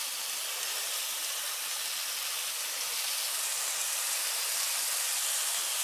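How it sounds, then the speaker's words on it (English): Constant, dense crackling sizzle of an elk bacon burger frying in a hot pan, loud and close, with no talking. "Oh, listen to that wonderful sizzle."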